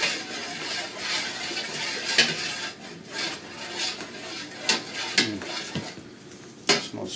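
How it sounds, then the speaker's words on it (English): Onion soup being stirred in a pot for classic French onion soup, uneven scraping and clinks of a utensil against the pan over a soft simmering hiss. "Stir that in"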